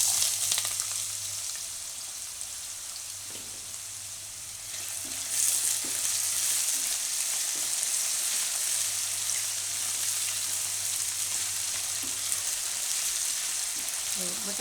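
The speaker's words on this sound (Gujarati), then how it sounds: "બટેટાને આપણે મીડિયમ ગેસ રાખીને આમાં પકાવી લેવું તેલમાં" Potatoes fry in oil in a pan over a medium flame for sabudana khichdi, with a steady, close hiss of sizzling oil that swells slightly partway through and carries on, along with a few soft clicks and stirring sounds.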